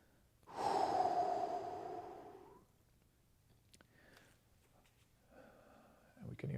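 Deep breathing during a hip-opening mobility stretch: one long, loud, close breath, followed by softer breaths and a final sharp intake.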